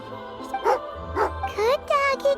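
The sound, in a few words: dog barking in Genshin Impact video game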